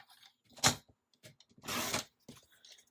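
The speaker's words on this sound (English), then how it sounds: "I'm going to cut strips out of this." Scissors cut strips from a sheet of planner paper in two bursts, a short crisp snip followed by a longer rasping cut, close and fairly quiet with small handling noises between.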